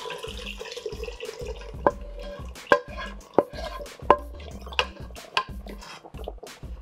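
Liquid pours into a pot of keto chicken tortilla soup with a continuous splashing stream, broken by several sharp knocks and clinks of cookware, close and moderately loud, with no talking.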